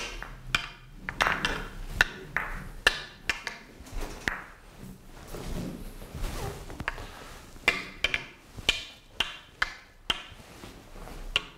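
A cue strikes billiard balls in a thin-hit follow shot with top spin, producing sharp ball-on-ball clacks that repeat at a steady rhythm and sound close and crisp over light room noise.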